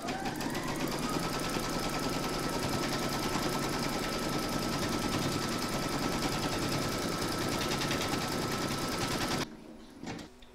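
An embroidery machine stitches a placement outline for fabric and batting on a large cross appliqué, a loud continuous rapid chatter that runs for most of the time before stopping abruptly near the end.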